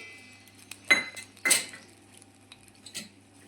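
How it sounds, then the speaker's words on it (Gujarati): A few sharp rattling clinks of peanuts tipped into a metal mixer grinder jar, in two quick bursts with lighter taps after, close and quiet. "અહીંયા મેં મિક્સર જાર લઈ લીધો છે તેમાં આપણે આ સિંગ ઉમેરી દઈશું"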